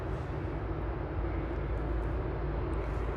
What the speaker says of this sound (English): There's a Gulfstream, I think, just touching down.